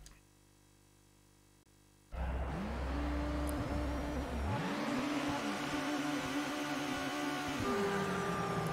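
A race car in Toca Race Driver on PS2 roars into life and accelerates hard, engine pitch climbing and dropping through gear changes, loud and continuous after a quiet opening.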